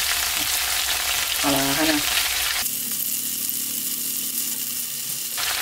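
Tofu sizzles and fries in a pan over low heat while being stirred and rubbed, a loud, steady crackling hiss throughout, with someone speaking briefly over it and a short electric whir partway through.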